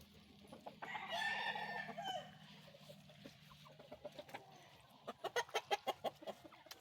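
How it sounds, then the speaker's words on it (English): Heritage breed chickens on a small farm: a rooster crows once near the start, then a hen gives a quick run of sharp, rhythmic clucks, all close by and fairly faint against a quiet background. "When I'm talking about Andy's chickens, this is what I'm talking about."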